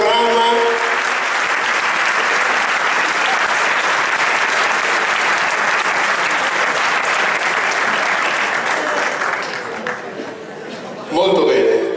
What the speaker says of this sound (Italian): Molto bene, un applauso